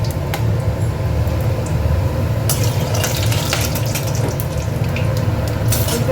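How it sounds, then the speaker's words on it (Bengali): Whole cloves, cinnamon, cardamom, a dry chilli and cumin seeds temper in hot oil, giving a steady close hiss broken by scattered sharp crackles and pops. There is no speech. "লবঙ্গ, দারুচিনি, এলাচ ফোড়নে দেবো, একটা শুকনো লঙ্কা দেবো, একটু জিরা দেবো,"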